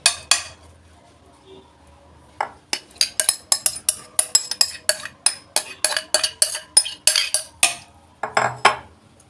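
A spoon scrapes and clinks against a baking dish as meat mixture for galash pie is spooned in, a rapid run of bright metallic taps and scrapes, close and crisp, with brief pauses between scoops.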